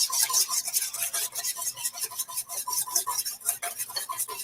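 A whisk beats a dressing briskly in a bowl, a steady run of quick scraping, clinking strokes close up, with no voices.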